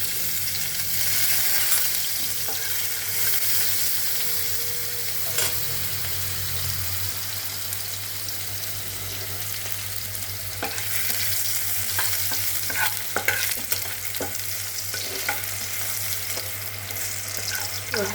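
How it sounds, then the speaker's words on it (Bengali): Dried red chillies and garlic sizzle steadily in hot oil as a tempering for a Bengali fish curry, a close, continuous frying hiss with occasional stirring scrapes and no talk. "দিয়ে শুকনো লঙ্কা আর রসুন ফোড়ন দিচ্ছি"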